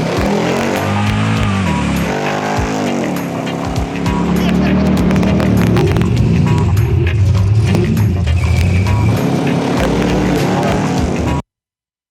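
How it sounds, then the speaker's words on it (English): A dirt-track Camaro's V8 engine rumbles and revs loudly throughout, its pitch rising and falling as it accelerates, with a voice talking over it before the sound cuts off abruptly. "once we get into like the GM stuff, we get just generic V8 sounds"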